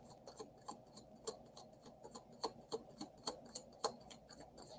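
Tarot cards shuffled by hand during a live reading: a close, steady run of crisp papery clicks and snaps in an uneven rhythm, with no talking.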